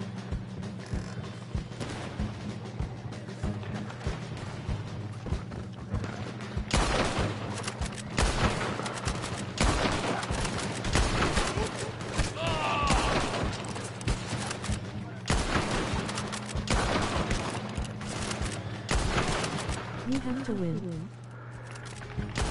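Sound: gunfire in the video game Red Dead Online

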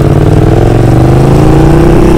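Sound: Yamaha MT-07 motorcycle engine revving

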